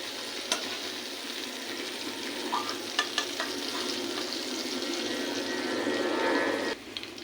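Shrimp or fish frying in oil in a kadai, a steady close sizzle and crackle with a few sharp clatters from the pan, easing briefly near the end.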